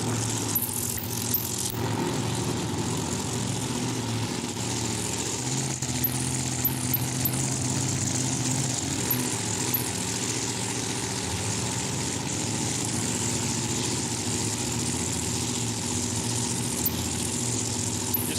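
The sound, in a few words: supercharged nitro funny car drag racing engines idling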